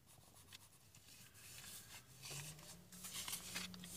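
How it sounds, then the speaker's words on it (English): A pen or pencil rubbing quickly across paper in a quick sketch, soft scratchy strokes in short bursts that grow slightly busier toward the end, faint and close in a quiet room. "excuse me while I just do a very quick drawing here"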